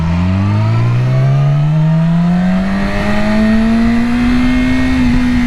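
A Yamaha R6 sport motorcycle accelerates hard on its first ride of 2021. The engine note climbs steadily, loud and close, with no talk.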